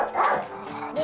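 A small dog on an old CRT television screen gives a short bark and yip, slightly muffled and tinny, lasting about a second with a faint voice underneath.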